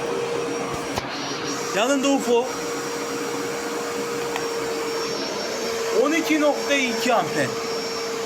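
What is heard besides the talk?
electric vacuum cleaner running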